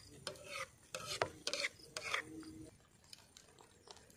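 Besan batter for pithla stirred in a pan over a village-style wood-fired stove, giving repeated scraping, rasping strokes in short bursts, close and moderately loud, easing off toward the end.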